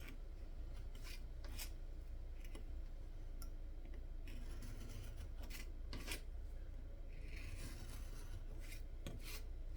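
Trimming plants in a garden courtyard, heard as a steady rasping and clipping texture with intermittent sharp snips and ticks over constant low background noise, with no talking.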